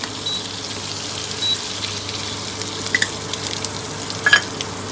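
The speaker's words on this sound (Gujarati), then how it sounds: "હવે આપણે આદુ લસણની પેસ્ટ નાખશું" Ginger garlic paste frying in butter in a pan, a soft steady sizzle with a few brief spits and crackles near the end, no one talking.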